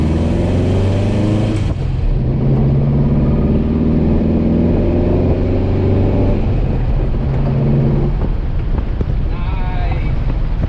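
A 1970s car with a newly fitted fuel system accelerates hard, its engine drone loud and close under steady wind buffeting, the tone holding then easing off partway through.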